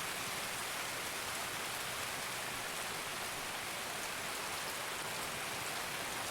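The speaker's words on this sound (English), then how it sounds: "The rain might be masking our movements a little bit." Steady rain falls in Escape From Tarkov, a dense, even hiss of drops on surfaces that holds constant and fairly loud throughout with no talk over it.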